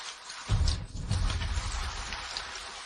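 Steady rain patters down in a dense wash of drops at an outdoor street scene where a taxi is needed, with a heavier swell near the start and no voices.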